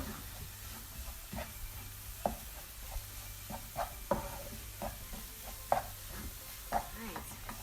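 A spoon stirs St. Lucian dahl with peas in a pot over low to medium heat, giving soft repeated scrapes and knocks against the pot under a faint sizzle, close and quiet.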